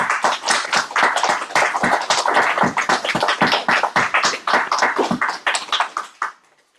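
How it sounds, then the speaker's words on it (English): An audience in a room and joining over Zoom applauds a presentation, steady close clapping from a modest group lasting several seconds before thinning out and stopping. "let's unmute and give Sarah a nice round of applause."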